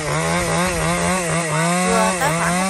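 A chainsaw cuts through a large, dense eucalyptus trunk near its base, running loud and close with a continuous buzzing whine that wavers in pitch as the chain bites into the wood.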